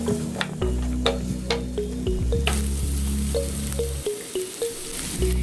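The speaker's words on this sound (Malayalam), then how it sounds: "ഇനി നമുക്ക് നമ്മൾ നേരത്തെ കട്ട് ചെയ്ത് വെച്ച സവാളയും പച്ചമുളകും ചേർത്ത് കൊടുക്കാം." Chopped onion and green chilli fry in a pan for butter chicken, giving a steady close sizzle with faint stirring scrapes and clinks.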